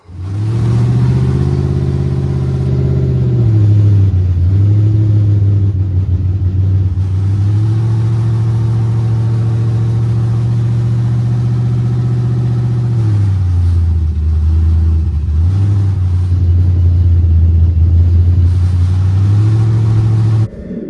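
Car driving down the road after a suspension setup, its engine droning loudly and steadily with gear shifts and revs rising and falling, and a continuous heavy road rumble.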